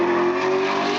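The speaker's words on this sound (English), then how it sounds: "You can hear the supercharged V8 of Herod Motorsport being tested in the background" Supercharged V8 race car on test at Eastern Creek circuit, a loud steady engine drone with a strong sustained tone, held for about a second with no break.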